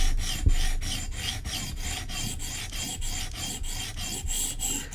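A Gen 2 Koenig Arius knife edge drawn across a sharpening stone in a quick cleanup pass, rhythmic rasping strokes repeating at an even pace, close and alone.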